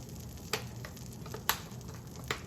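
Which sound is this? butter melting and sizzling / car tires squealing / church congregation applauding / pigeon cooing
butter melting and sizzling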